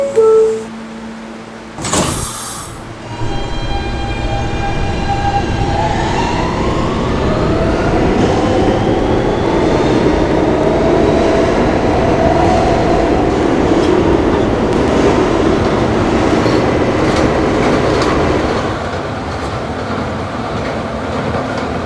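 An R160B D train subway car rides along the track, with a sharp burst and door sounds early on, then a rising motor whine and a steady loud rumble of wheels that eases near the end.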